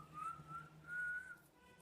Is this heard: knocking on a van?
no